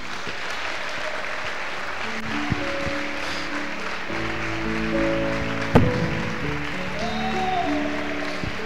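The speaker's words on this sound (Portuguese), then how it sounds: "Palmas para Jesus." Applause rises from a crowd at a gospel praise festival, a steady wash of clapping that carries through the whole stretch, mixed with sustained music or organ tones and no distinct talking.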